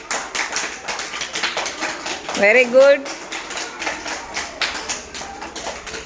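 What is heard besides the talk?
children clapping for Geetika in class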